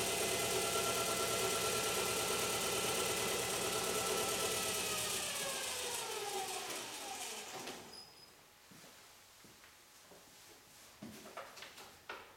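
The ReGenX quantum motor running with a steady high whine that winds down in pitch and fades after about six seconds, followed by quiet clicks and light mechanical knocks close by.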